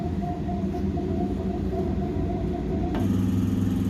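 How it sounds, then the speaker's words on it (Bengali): A Howrah–Bardhaman local train rolls into Shaktigarh station at night, a steady loud rumble of wheels and carriage noise with a faint tonal whine, the sound shifting and thickening near the end as it slows. "যখন চোখ খুললাম দেখি ট্রেন আমাদের প্রবেশ করেছে শক্তিগড়ে"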